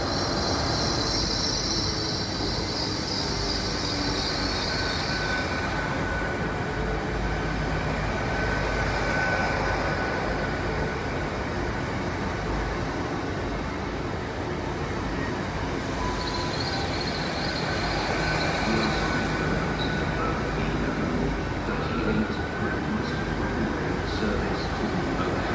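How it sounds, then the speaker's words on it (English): A Class 800 train arrives at Exeter St David's station with a long steady rumble of wheels on rail, a high wheel squeal rising near the start and again later, and faint background voices. "class 800 coming into Exeter St David's"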